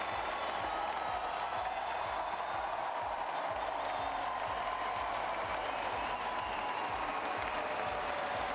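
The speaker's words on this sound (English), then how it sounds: "The British crowd on their feet applauding their queen for the evening" British crowd on their feet applauding at a London track cycling race, dense continuous clapping from a large arena audience, steady and even throughout.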